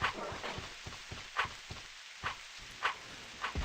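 Steady patter of rain in the online role-playing game Asheron's Call, a soft continuous wash broken by brief sharper splashes or hits every half second or so, fairly quiet and with no voices.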